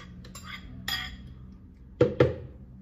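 Soursop fruit is dropped into a blender jar in a home kitchen: faint clatter at first, then two close, heavy thumps in quick succession against a quiet background.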